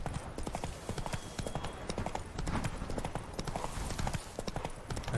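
The horse Roach gallops in The Witcher 3, a fast, steady clip-clop of hooves, close and prominent, with rhythmic thuds continuing throughout.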